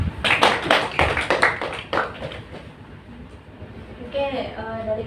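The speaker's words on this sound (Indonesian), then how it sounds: "Ini aplaus untuk kelompok 1." Brief burst of classroom applause for a student group during a micro-teaching lesson, a quick patter of clapping hands that fades after a couple of seconds, followed by quieter room noise and a voice speaking near the end.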